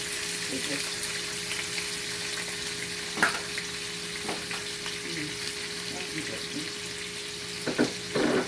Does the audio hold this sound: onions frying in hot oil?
yes